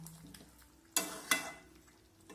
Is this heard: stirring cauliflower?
yes